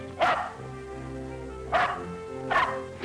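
Mother dog with puppies barking three times in short, spaced woofs, close and fairly loud over a soft film-score background.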